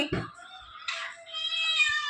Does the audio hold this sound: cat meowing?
yes